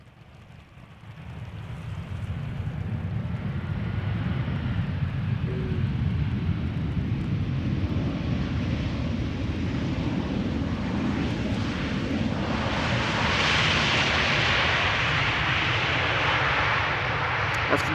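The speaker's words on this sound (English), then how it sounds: "And this airplane no longer seems to be crabbing." Airliner on final approach at Amsterdam Schiphol Airport, a broad jet roar that swells gradually and grows louder as it passes nearby, with no talk.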